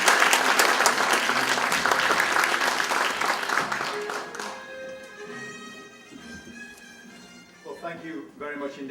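A conference audience claps loudly to welcome Sir Nigel, chairman, at an open data cooperation meeting. The dense applause fills the first four seconds and then fades, leaving soft tones and quieter sounds.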